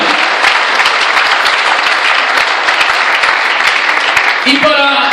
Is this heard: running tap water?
no